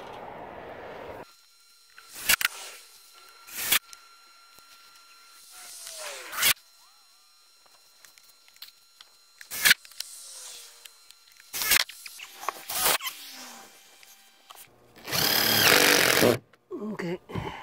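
Small black screws driven with a power tool into a woodstove chimney pipe during a tiny stove kit install in a school bus conversion, heard as several short, loud bursts of drilling spaced a few seconds apart with quiet gaps between.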